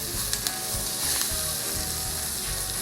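Parsley and garlic hit hot fat in a pan for penne alla vodka, giving a loud, dense, steady sizzle up close with a couple of brief clinks near the start.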